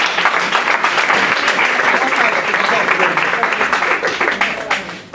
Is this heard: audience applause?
yes